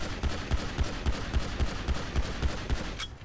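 Rapid gunfire in the video game GTA V, in steady bursts, about three shots per second, sharp and punchy against a busy background with no talking.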